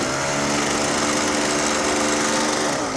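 A low-powered motorcycle engine straining up a hill in rain and freezing weather, a loud, steady buzzing drone with shifting pitch and wind noise, close and continuous.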